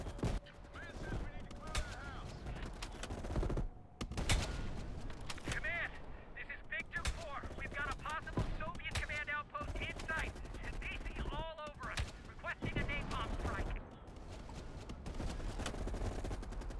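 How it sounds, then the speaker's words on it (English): Gunfire in Call of Duty Black Ops Cold War, with repeated sharp shots and bursts scattered through a busy game soundscape, mixed with other effects and some in-game voices. "Shots."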